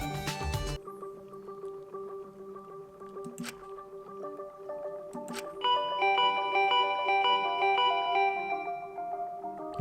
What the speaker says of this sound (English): Now the doorbell won't stop ringing.